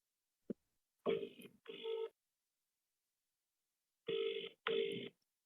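A phone line rings in two double bursts separated by a pause, heard through a call connection after a brief click; no talking.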